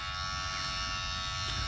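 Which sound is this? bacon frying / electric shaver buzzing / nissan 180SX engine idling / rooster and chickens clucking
electric shaver buzzing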